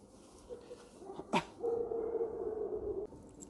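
A dog in a training session gives a short yelp, then a drawn-out whimpering whine, heard close but fairly quiet, with no talking.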